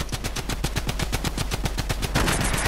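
Rapid automatic gunfire in Fortnite, a fast, evenly spaced string of loud, close shots lasting the whole stretch without pause.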